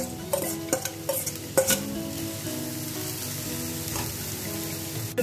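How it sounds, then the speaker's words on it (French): Pepper pieces sizzling and frying in a pan for stuffed vegetables, a steady close hiss with several sharp stirring clacks and scrapes against the pan, no voices. "Un poêle, je mets les poivrons."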